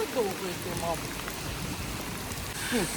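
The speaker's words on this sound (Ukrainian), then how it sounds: "Ой, дощ." Rain beginning to fall outdoors makes a steady, fairly loud hiss and patter throughout, with a few brief faint chirping or voice-like sounds over it.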